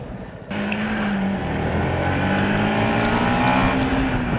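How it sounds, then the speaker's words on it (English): Yamaha MT-125, a 125 cc motorcycle, accelerating along a road: a steady, loud engine drone rises in pitch as it pulls away, continuous throughout with wind noise and no talking. "That's a decent little bit of acceleration."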